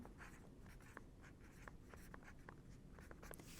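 Pencil writing on paper, a quiet run of faint scratchy strokes and small taps close by, steady and soft with no one talking.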